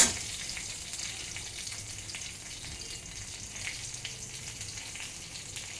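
Green chili and whole spices sizzle in hot oil for a Bengali mango dal, a steady crackling hiss with faint spatters throughout, fairly quiet and uninterrupted by voices.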